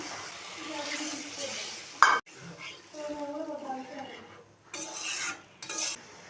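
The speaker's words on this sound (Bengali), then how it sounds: "সামান্য একটু জল আমি এটার মধ্যে অ্যাড করলাম।" Water is added to fried spice paste in a pan, bringing bursts of sizzling along with stirring scrapes and utensil clinks. The sounds come in uneven, intermittent patches.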